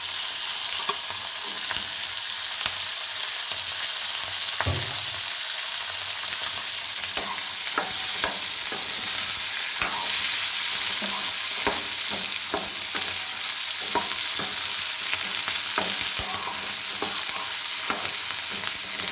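Onions fry in a pan for an alu piyazkoli tomato chorchori, a steady close hiss of sizzling oil broken by frequent scraping and stirring clicks throughout, with no one speaking.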